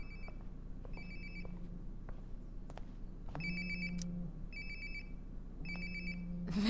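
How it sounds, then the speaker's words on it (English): A phone rings nearby in Life is Strange: Before the Storm, repeating electronic ring bursts in an even pattern over a low room hum, with no talking. "Sounds like my phone is definitely nearby."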